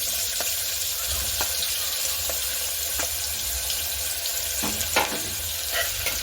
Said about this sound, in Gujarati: તો અહીંયા આપણે ડુંગળીને સરસ રીતે સાતળવા દેવાની છે